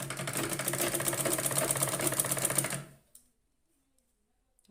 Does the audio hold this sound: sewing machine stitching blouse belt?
yes